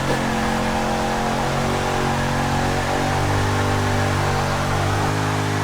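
A Chrysler 300 with its regular Hemi engine revs hard in the Forza racing game, a loud steady roar that climbs and falls in pitch, heard alone without talk.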